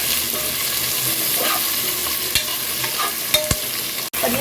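Tomatoes frying with onions for biryani, a loud, continuous sizzle close by with stirring scrapes and a few sharper clatters, no voices.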